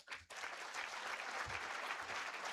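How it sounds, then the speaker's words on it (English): An audience at a health integration summit launch bursts into sustained applause after a brief pause, a dense and even wash of clapping that stays steady to the end. "Let's applaud him once more."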